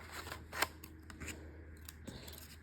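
Scissors trim a paper mixed-media art tag, producing a few crisp, close snips and rustles spread over a couple of seconds in a quiet room.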